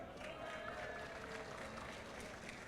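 Audience applause and cheering for the losing League of Legends team at a Gfinity gaming event during EGX 2014, a steady, dense crowd wash lasting the whole stretch, fairly loud and continuous.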